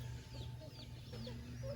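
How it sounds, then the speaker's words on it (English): Hens softly cluck and chirp nearby, a mother hen named Sunny with her seven little chicks, with faint peeping over a steady low background hum. "the chickens. That there Sunny with her 7 little chicks."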